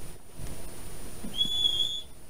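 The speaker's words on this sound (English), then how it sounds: "That whistle will make anyone come here." A character in the video game Red Dead Redemption 2 gives a single short, high whistle that rises out of a steady hiss of ambient game sound.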